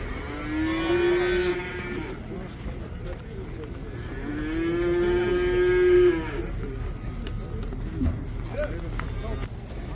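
Cattle at a livestock market in Taraz moo twice in long, rising calls a few seconds apart, fairly close, over a background of market babble and voices.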